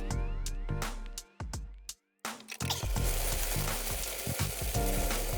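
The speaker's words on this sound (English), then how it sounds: "And beef in. Spread it out. You need to cook this with maximum heat and very short time." Beef chunks hit a very hot wok over maximum heat, giving a loud burst of sizzling and crackling frying with a brief quiet gap, then steady intense hissing with stirring scrapes.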